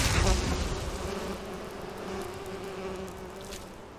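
Bees buzz continuously at an abandoned apiary in the fantasy video game Enderal, a dense, steady drone that fades slightly over a few seconds with no talking.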